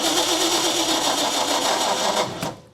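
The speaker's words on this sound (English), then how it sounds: "I'm going to go in and turn the ignition key in the car on." Classic car engine cranking over with the ignition key on a weak, nearly dead battery, a steady loud rhythmic churning that fades out at the end.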